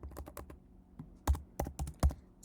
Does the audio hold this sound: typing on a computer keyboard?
yes